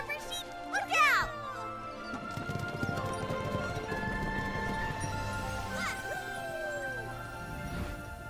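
Hooves of a horse-drawn carriage in the Infinity Nikki video game clop steadily under game music, with a whinny near the start and a bright magical sweep, while characters chatter over the top.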